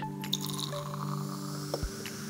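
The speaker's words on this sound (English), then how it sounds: "I'm gonna put this tooth into the jar and we'll pour some coke on top of it." Cola poured into a glass jar over a tooth, a soft liquid trickle and drip over a steady background hum, ending in a brief squishy splash; no talking.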